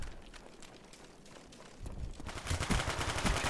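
Rapid automatic gunfire from a Call of Duty Black Ops match, bursts of shots building in density and loudness toward the end, with no talk over it.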